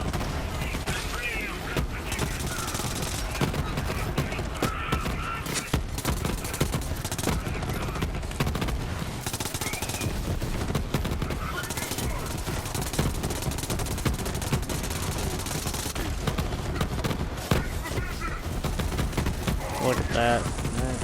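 Kaoson submachine gun in Borderlands 3, firing in long continuous automatic bursts with steady, loud, rapid shots, mixed with game effects, and someone talking intermittently over it.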